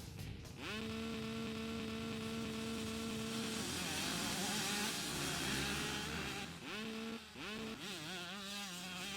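KTM 125 SX two-stroke motocross bike engine in the video game MX Unleashed, holding a steady idle drone and then revving up in rising, wavering pitch sweeps, loud and close with no talking.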